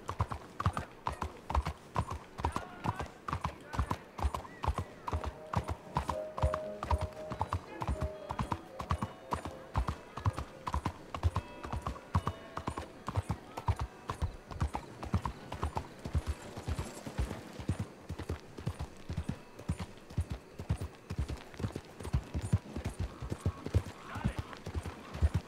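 Steady rhythmic clip-clop of horse hooves in the video game Red Dead Redemption 2, fairly close and even-paced, continuing throughout with a faint background hum.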